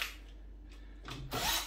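Power drill boring a hole through plastic: faint whirring bursts near the start and end, rising to a louder grinding surge at the close, with no talk.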